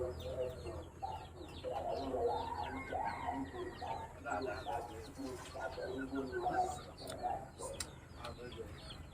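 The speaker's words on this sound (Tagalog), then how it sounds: "Mga manok, no?" Chickens cluck and chatter nearby in a busy, uneven flurry of short calls, faint overall, with a person's voice mixed in among the birds.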